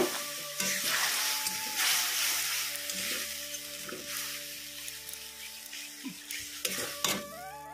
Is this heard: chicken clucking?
no